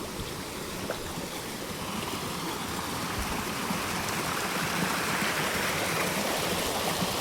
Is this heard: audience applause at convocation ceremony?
no